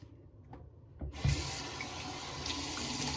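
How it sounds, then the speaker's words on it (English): A bathroom sink tap is opened after a second of near quiet, and cold water rushes steadily and close at hand into the basin for a face rinse. "then I rinse off again."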